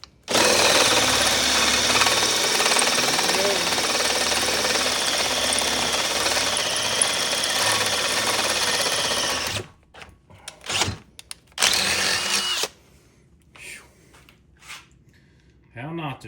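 A power drill bores into a steel stiffener plate for a Durango gearbox swap into a Jeep XJ, a loud continuous grinding whine for about ten seconds, then short bursts of drilling and scattered clatter, with a person talking.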